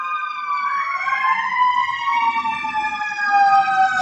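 Emergency vehicle siren wailing on a New York City street, its rising and falling tone sweeping loudly and steadily over low traffic rumble, with no talking.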